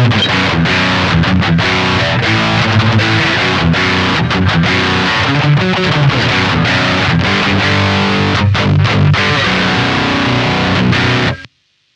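Distorted electric guitar reamped through a Radial JCR reamp box with its low cut filter engaged, a loud continuous rhythm part with steady strummed chords that stops abruptly near the end.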